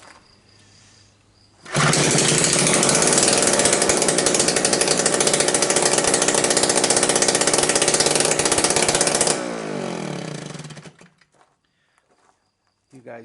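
A 2-stroke 900W generator runs without its muffler, a loud, harsh, buzzing engine roar that starts abruptly, holds steady for about eight seconds close by, then drops and cuts out, with quiet talk before and after.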